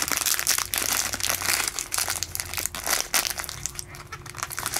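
Crinkly plastic packaging of herb-flavored crackers being pulled and squeezed open, a dense, continuous crackling and rustling close up, with no talk over it.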